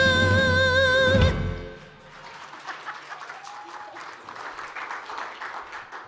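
Applause from a congregation at a New Year's Day church service: a sustained sung or instrumental note ends, then spread-out clapping from the room continues steadily at moderate volume.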